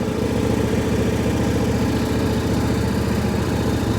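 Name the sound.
tractor engine running after a warm start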